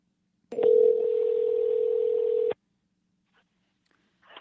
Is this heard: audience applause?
no